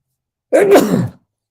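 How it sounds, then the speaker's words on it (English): A single short sneeze, close and sudden, surrounded by silence. "Oh, I'm going to sneeze"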